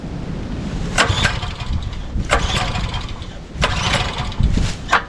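A gasoline engine on a used Dirty Hand Tools 22-ton log splitter idles with an uneven mechanical clatter, and several louder bursts rise above the running noise.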